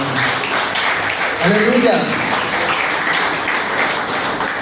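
A church congregation applauds during a sermon, a steady wash of clapping under the preacher's voice that swells briefly in the middle while he keeps speaking.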